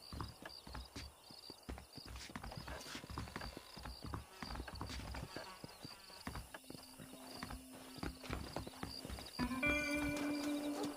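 Horses' hooves clip-clopping at a walk in the Western video game Red Dead Redemption, faint uneven hoofbeats with a short whinny and creaking tack near the end, no talking.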